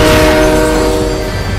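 A train horn blares loud and sustained in Fortnite, a steady multi-tone blast holding for the full moment with faint rumble of the moving train beneath.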